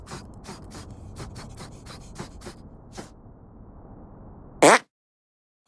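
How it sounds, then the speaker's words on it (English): Video game fart sound effect from South Park: The Stick of Truth: a short, sudden, loud burst near the end. Before it comes a stretch of quieter game noise with rhythmic clicks, and then the sound drops into silence. "Make your fart detonate behind me."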